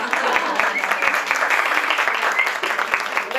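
Audience applauding during a science panel discussion, a steady patter of clapping from a modest crowd that continues without a break.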